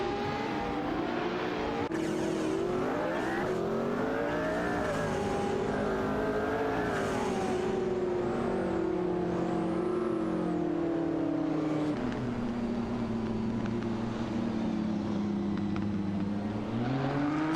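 Race cars roar around a track in an AI racing video game, including a Celine 7 twin turbo, with loud sustained engine drones rising and falling through gear shifts as cars accelerate and pass, continuous throughout with no talk.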